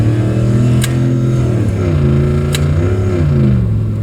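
A car engine revving hard at full throttle during a transmission slip test, with a loud continuous roar whose pitch climbs and drops as the gears shift.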